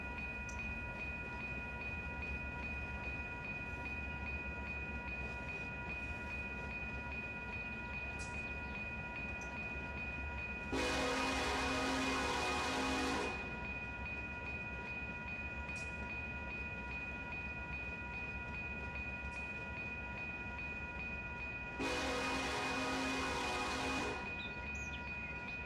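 A mixed freight train rolls on a UP-BNSF yard transfer in the Run 8 train simulator, with a constant low rumble and steady hum, broken by two long horn blasts about ten seconds apart.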